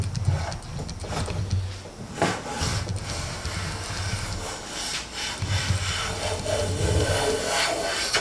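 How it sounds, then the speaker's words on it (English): A Preston No 9 hand plane takes thin wood shavings from a board with a series of soft, rasping, rhythmic strokes that continue steadily throughout at a quiet level. "Taking nice thin shavings now."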